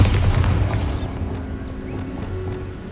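A Bombarda spell explodes in Hogwarts Legacy, a single deep, loud boom at the start that rolls into a fading rumble over the following seconds.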